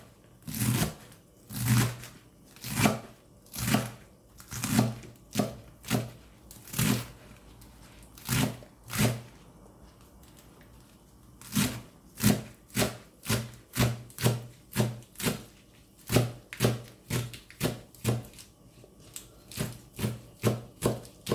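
A knife chops spinach against a board in rapid, rhythmic strokes, with bursts of quick cuts and brief pauses, close and crisp.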